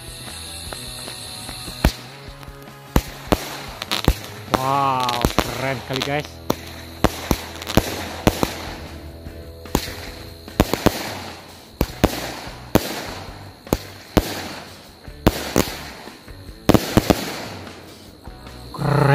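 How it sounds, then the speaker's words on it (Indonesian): A Batman 16-shot cake firework set off on Takbiran night 2024, firing a rapid series of loud, sharp bangs with crackling and whistling between them, while a person exclaims nearby. "Untuk yang selanjutnya kita nyalain mercon cake Batman. Ini yang 16 shoot guys."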